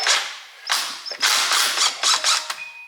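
A socket wrench ratchets in several sharp, clicking bursts while breaking loose rear differential bolts on a Nissan G35 drift car, loud and close with short pauses between pulls.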